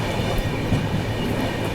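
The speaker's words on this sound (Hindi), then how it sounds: "अपनी ट्रेन पहुंच गई है वसई रोड" Onboard the Mumbai Rajdhani Express, a steady loud rumble and rattle of the train running through Vasai Road station, with no talk.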